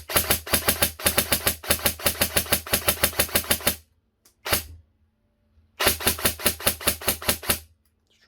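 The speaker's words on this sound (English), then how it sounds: "I'm just going to dump a load of rounds into the Chrono now to show you how snappy this thing is" Secutor Rapax M6/M7 airsoft DMR firing rapid rounds into a chronograph: two long bursts of sharp, evenly spaced snappy shots, split by a short gap holding a single isolated shot, loud and close.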